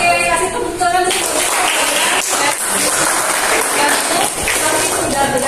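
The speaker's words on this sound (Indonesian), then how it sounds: "Oke, kasih tepuk tangan dulu" Classroom of students clapping for a classmate in an Indonesian lesson on ecosystems, dense steady applause filling the room with children's voices mixed in, close and loud throughout.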